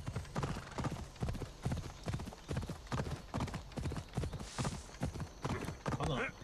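Steady clip-clop of horse hooves in Assassin's Creed Odyssey, a quick even rhythm of close, firm strikes running throughout with a brief whinny-like sound near the end.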